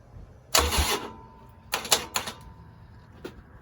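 A Harley-Davidson Sportster 1200 engine cranks without starting: a short starter burst, a pause, then a second choppy cranking burst, followed by a faint click, close and otherwise quiet.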